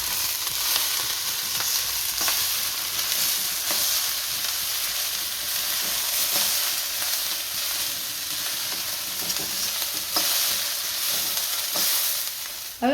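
Vegetable fried rice sizzles and hisses steadily in a hot pan as red chili sauce and soy sauce go in, with intermittent stirring scrapes and no voices.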